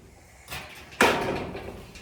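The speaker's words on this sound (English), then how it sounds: "Let's go ahead and open this other door too." A greenhouse door opens with a scraping slide and then a louder rattling rush, close by in a hot greenhouse, with no talking over it.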